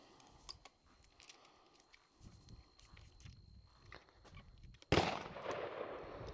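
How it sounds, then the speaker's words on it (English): A single gunshot, fired one-handed, cracks loudly and suddenly near the end after several seconds of quiet outdoor background with faint shuffling. "one thing I wanted to do was the old single-handed shot"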